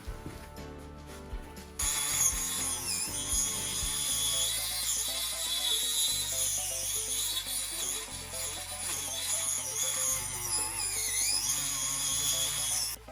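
A tool cuts material to shape a hill for a model railway, giving a continuous high whine that rises and falls in pitch, close and fairly quiet, after a short stretch of lighter handling noise.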